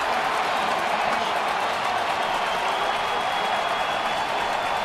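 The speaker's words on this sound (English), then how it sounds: "Crowd on their feet again." Steady broadband roar of a baseball stadium crowd on its feet in Oakland during a rainy 2012 ALDS Game 4, loud and continuous throughout with no gaps and no speech.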